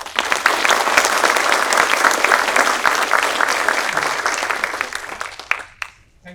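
Faculty and staff at an annual spring engineering college meeting give award winners a round of applause, loud sustained clapping from a crowded room that thins out and stops abruptly near the end, leaving near silence.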